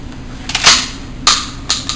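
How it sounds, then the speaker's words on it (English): SPAS shotgun fired one-handed in a video game: three loud, sharp shots spaced about half a second apart, each followed by a brief mechanical clatter, with no talking. "There's some one-handed firing with the SPAS."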